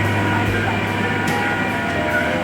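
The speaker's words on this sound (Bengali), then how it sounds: "ট্রেন ছেড়ে দিল" A local train pulls away from a station near Kalyani during a festival-fair crowd, its steady low rumble and rolling rail noise filling the scene at moderate volume without pause.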